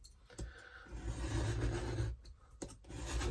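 A new scalpel draws along a metal ruler, slicing through a paper print in a few short rasping strokes, close and quiet, with brief pauses between cuts.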